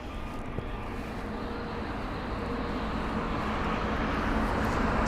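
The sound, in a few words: Swiss Airbus A320neo aircraft from Zurich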